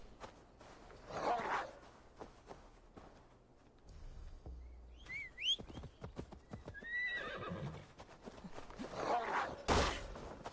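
Hoofbeats clip-clop steadily from a horse in the Assassin's Creed Valhalla video game, with a loud whinny midway and another neigh near the end, set against game ambience.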